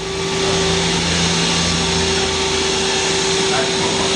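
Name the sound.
Mazak QTN 250M-II CNC turning center spindle running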